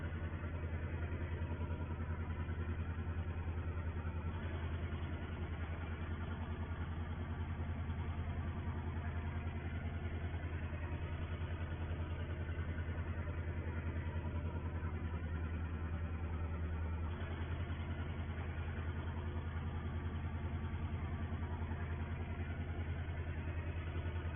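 A tractor engine runs continuously on a sugar beet farm at Attingham Park in 1963, a steady, droning, muffled rumble with no break or clear revving.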